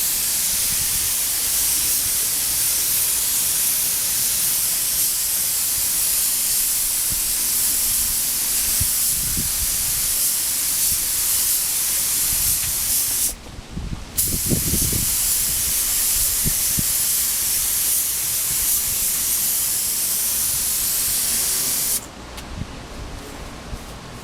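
Aerosol spray paint hissing onto a Suzuki trackbike fairing outdoors in the wind, as long continuous bursts with a brief pause and some rustling, then a final stop.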